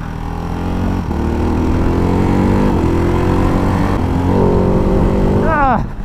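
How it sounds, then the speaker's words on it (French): A Ducati Hypermotard 698 engine runs close and loud with a throaty intake growl, steady at first, then rising sharply in pitch as the throttle opens near the end before cutting off. "tu as cette bonne sonorité, ce bon bruit d'induction qui t'accompagne sur la reprise des gaz"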